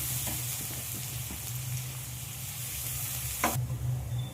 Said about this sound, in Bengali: পেঁয়াজটা ঠিক এরকমভাবে লাল করে ভেজে নিতে হবে কাতলা মাছের কালিয়ার জন্য